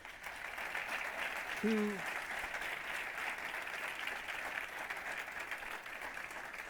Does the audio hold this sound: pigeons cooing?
no